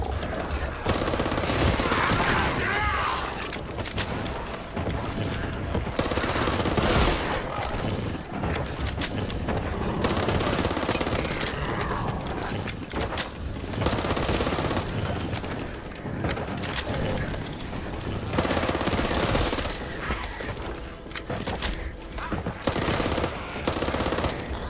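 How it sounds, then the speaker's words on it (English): Rapid automatic pistol fire in a zombie shooter game, dense bursts of shots layered with other game noise, loud and nearly continuous throughout. "Is that a full auto pistol?"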